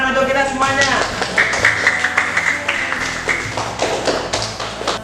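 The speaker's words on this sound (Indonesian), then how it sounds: "Beri tepuk tangan untuk kita semuanya." A class claps hands in a rapid, steady patter of many claps throughout, mixed with voices and a background tone.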